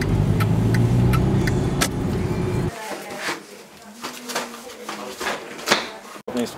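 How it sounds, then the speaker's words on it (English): Inside a moving car, a steady low engine and road rumble that cuts out partway, leaving quieter cabin sounds with clicks, shuffling and a voice talking. "I'm in the car with Matt at the moment"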